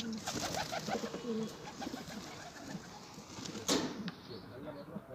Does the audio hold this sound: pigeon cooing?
yes